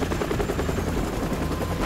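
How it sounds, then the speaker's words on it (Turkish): A helicopter in Call of Duty: Modern Warfare Remastered makes a steady rhythmic rotor chop, loud and continuous, with dense engine rumble and possible gunfire mixed in. "Helikopter var, bir tane daha."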